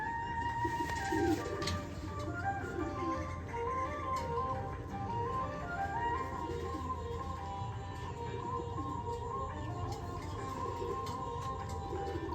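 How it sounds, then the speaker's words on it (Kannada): A female Yedunal Poot Dhooma racing pigeon coos softly and repeatedly in a quiet setting, with faint tonal background sounds. "ಇದು ಒಳ್ಳೆ ರೇಸರ್ ಬೋರ್ಡು."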